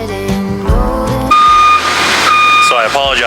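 Reversing beeps from work vehicles doing preservation work at a Gettysburg memorial sound as steady repeated tones over low engine rumble, with some clatter and background noise throughout.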